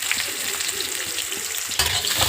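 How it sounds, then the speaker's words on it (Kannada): Chopped onion frying in hot oil in a home kitchen pan, a steady close sizzle with occasional stirring scrapes, growing slightly louder near the end. "ಒಂದು ಗೆಡ್ಡೆ ಈರುಳ್ಳಿ, ಅದನ್ನು ಎಣ್ಣೆ ಒಳಕ್ಕೆ ಹುರ್ಕೊಳ್ಳೋಕ್ಕೋಸ್ಕರ ಹಾಕ್ತಾ ಇದ್ದೀನಿ"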